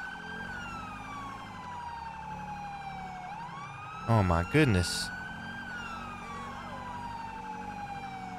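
A wailing ambulance siren in the game GTA V sweeps up and down steadily in the background, with a second siren tone layered in, while a man briefly exclaims over it.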